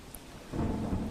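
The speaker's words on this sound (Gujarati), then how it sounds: "ભારે પવન સાથે વરસાદનું આગમન થયું છે।" Heavy rain driven by strong wind, with a low rumble, swells in after a brief quieter moment, a dense wash of weather noise like a windy downpour.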